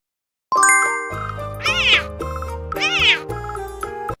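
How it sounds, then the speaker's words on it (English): A cat meows twice over a bright, sustained musical backing with chimes, each meow a drawn-out, wavering call standing out clearly and loudly. "C for cat."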